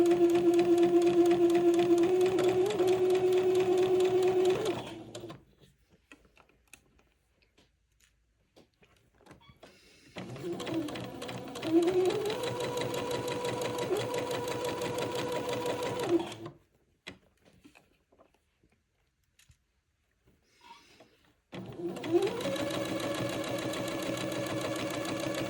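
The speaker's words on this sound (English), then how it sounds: "this will take me a minute to get this seam done and also to get the other seam done" Sewing machine stitching a seam, running in three long steady whirring stretches separated by quiet pauses, close and fairly loud with a slight shift in pitch as the speed changes.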